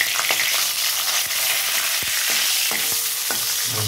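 Whole dried chilies and two bay leaves frying in hot oil for a shukto dal, giving a loud continuous sizzle with scattered small pops and a few light stirring knocks.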